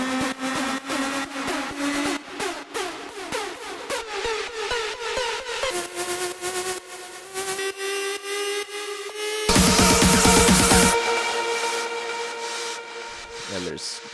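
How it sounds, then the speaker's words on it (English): Layered tonal effects build within an electronic music track, with repeating pitched tones that rise in steps and thicken, then swell into a bright, noisy wash before easing off. "there's these tonal effect builds"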